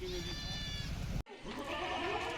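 Pregnant goats bleat nearby in drawn-out, wavering calls, first one then another after a short break, over a low rumble.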